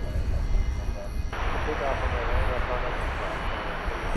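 A plane, likely a CRJ 701ER, takes off from a DFW Airport runway at night, a steady broad jet roar heard at a distance beneath a person talking.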